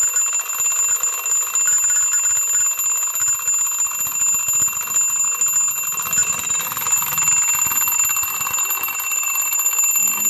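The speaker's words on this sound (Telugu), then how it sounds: "అప్పుడే అలారం అనేది వినిపిస్తుంది" An alarm clock rings continuously, a shrill electronic tone with rapid pulsing beeps sustained at steady volume.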